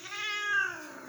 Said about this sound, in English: Here we have Sammy the torti cat